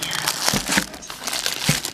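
Close, loud crinkling of paper being handled and scrunched, with irregular crackly bursts in quick succession.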